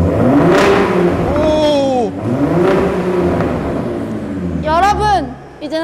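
A new Ford F-150 Raptor in sport mode revs its engine, the exhaust note rising and falling in several swelling pulls, loud and close, with a person exclaiming over it.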